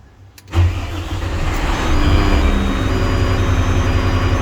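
A concrete mixer truck's engine cranks and catches after a brief quiet moment, then settles into a loud, steady, rumbling idle.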